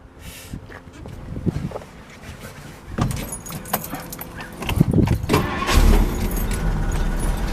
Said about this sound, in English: Let me go ahead and fire it up for you.